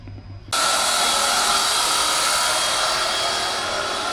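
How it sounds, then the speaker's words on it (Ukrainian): Construction work rumbles into an apartment, starting abruptly after a quiet half second and then running as a loud, continuous broadband roar like a drill or machinery that holds steady to the end. "Будівництво продовжується. В квартирі гучно."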